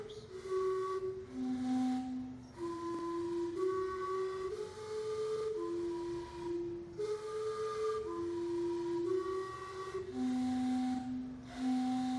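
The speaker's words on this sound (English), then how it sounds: "Shortly the steam whistles will blow 6 times." Steam clock whistles sound a chord in long repeated blasts, six in a row with short gaps, loud and sustained outdoors in Vancouver, Canada.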